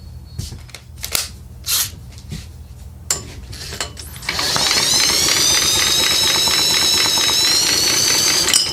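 A Tecumseh 6hp engine on a 1960s Sears lawn tractor is cranked. Some clicks and clatter lead into a steady, loud, continuous whirring mechanical drone of the starter spinning the engine over for several seconds, close up.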